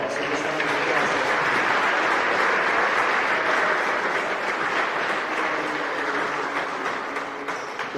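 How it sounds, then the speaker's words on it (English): Sustained applause from a large crowd at a women's college basketball game, steady and dense for the whole stretch, fading slightly near the end. "So just round of applause."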